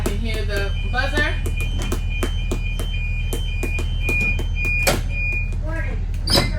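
A school bus rear-door warning buzzer sounds during a pre-trip inspection, a steady loud tone repeating in long bursts over a low idling hum, with clicks and a person talking throughout.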